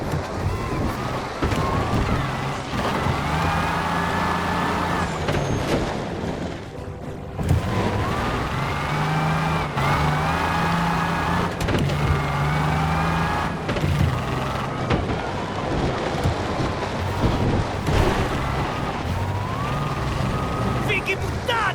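A car in the video game Mafia: The Old Country is driven fast, its engine revving up and down again and again, with voices talking over it throughout.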